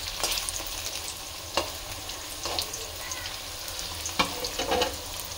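Boiled cauliflower florets frying and being stirred in a pan for a Bengali Christmas meal, with a steady close sizzle broken by several sharper spatters and stirring scrapes.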